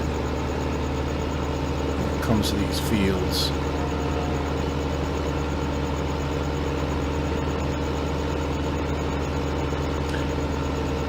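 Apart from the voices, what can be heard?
tractor engine idling in a farming video game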